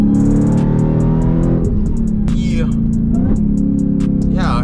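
A Dodge Hellcat Redeye's engine drones loud and close, its low pitch shifting slightly as it revs, with voices talking over it.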